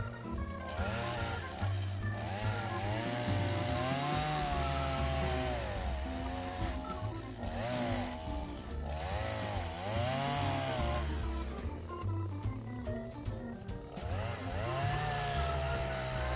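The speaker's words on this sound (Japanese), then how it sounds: "このチェーンソーがねパワーがないので挟まり気味になりますね" A low-powered chainsaw cuts through thin firewood outdoors, its motor droning loudly throughout with repeated pitch dips as the chain bogs in the wood and recovers.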